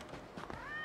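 A cat in the Yakuza 0 video game gives a short rising meow near the end after some faint scuffling, brief and quiet.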